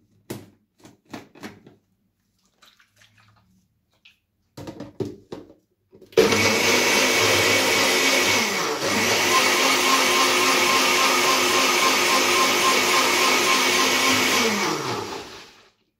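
A blender chops a small garlic clove in a little water to make an organic garlic spray for orchids: a few handling clicks and taps first, then a loud, steady whirring grind for about nine seconds that winds down at the end.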